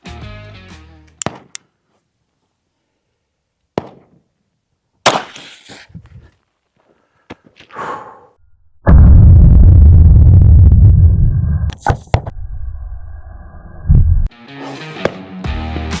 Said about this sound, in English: Let's shoot that half 2-liter soda, since at first it was very dramatic.